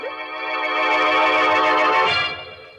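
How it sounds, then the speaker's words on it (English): A telephone bell rings in an old-time radio mystery drama, one steady, continuous ring of nearly three seconds, loud and close with no voices over it. "And then the phone rang again."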